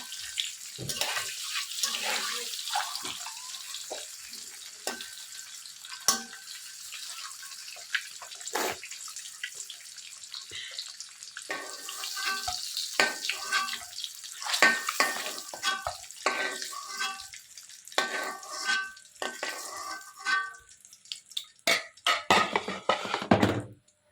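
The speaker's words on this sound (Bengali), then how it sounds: "ডিমগুলো এই যে ভেজে নিতেছি। আমি ডিমের তরকারি ডিম একটু হালকা করে ভাজি।" Eggs fry lightly in a pan for an egg curry, a faint sizzle broken by irregular utensil clatter and scraping, with some watery kitchen noise in the background.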